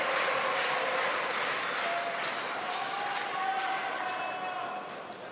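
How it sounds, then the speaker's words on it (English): A table tennis hall crowd at the world championships roars and applauds, a dense, fairly loud wash of cheering and clapping that holds steady before easing slightly at the end. "the crowd are going berserk here in the hall"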